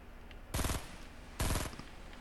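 Two short bursts of automatic gunfire in a video game, each a quick rattle of several rounds, come about a second apart over a quiet background.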